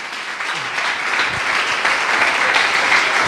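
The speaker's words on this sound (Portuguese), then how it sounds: "palmas ao Senhor" A church congregation claps continuously, a dense, sustained burst of applause from many hands filling the room.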